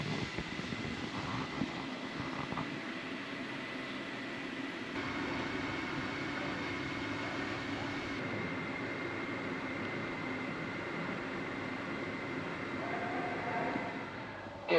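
Interior of a FlixTrain rolling from Cologne toward Aachen, a steady, continuous rumble and hum of the carriage at speed with a constant whine, fairly loud and unbroken, no voices.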